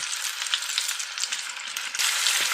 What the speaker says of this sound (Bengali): গরম তেলের মধ্যে দিয়ে দিব পেঁয়াজ কুচি